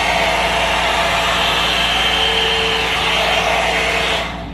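Hot air brush hair dryer blowing continuously, a close, loud, even whooshing hiss held for about four seconds before cutting off at the end.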